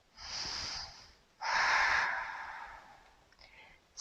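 Strong, forceful breaths during a power yoga session: two long, loud exhalations, the second fuller and longer, with quieter breathing between and after, close and with no talk.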